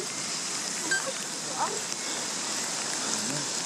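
Rain falls steadily during a hike across a mountain savanna on Mount Sumbing, a soft continuous hiss of drops with a few faint bumps and no clear talk.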